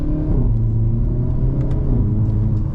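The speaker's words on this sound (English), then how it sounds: "You got a nice little pop on the gear change as well." Hyundai Elantra N engine revving from inside the cabin, a loud steady rumble that dips at a gear change and pulls back up, with faint crackle.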